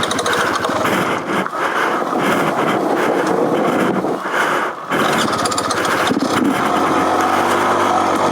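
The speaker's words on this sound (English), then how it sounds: "You can hear his tyres scraping down." Dirt bike, a Beta Xtrainer 300 or Yamaha WR 450, descending a steep hill with its engine running steadily while tyres scrape and skid over the dirt, loud and close with wind buffeting the microphone.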